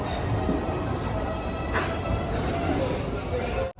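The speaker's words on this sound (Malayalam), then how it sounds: "ദിബ്രുഗഡ് ഗുവാഹട്ടി നാഗാലാൻഡ് എക്സ്പ്രസ് ദീമാപൂർ റെയിൽവേ സ്റ്റേഷൻ്റെ 1-ാം നമ്പർ പ്ലാറ്റ്ഫോമിലേക്ക് ഇതാ കടന്നു വരികയാണ്" Train 15670, the Dibrugarh–Guwahati Nagaland Express, rolls into platform 1 at Dimapur railway station with a loud continuous rumble of wheels and a rising metallic squeal, over a murmur of station voices.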